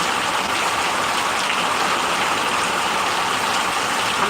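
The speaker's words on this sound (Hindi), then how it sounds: "अरे बंगाल का बारिश, हवा भी बहुत तेज है।" Heavy rain pours steadily in Bengal, driven by strong wind, a dense, continuous wash of loud hiss and patter that holds level and unbroken throughout, with no voices.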